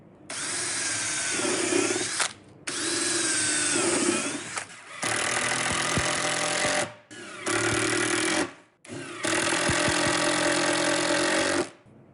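A power drill drives screws into a wooden mitre shooting board in four or five bursts of whirring motor, each a couple of seconds long, separated by short pauses, close and fairly loud with no talk.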